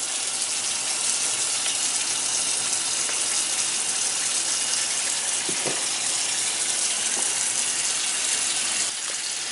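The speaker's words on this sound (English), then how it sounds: "I'm going to add chicken broth instead." A steady, continuous stream of chicken broth pours and splashes into a pot, a constant gushing hiss with no voices.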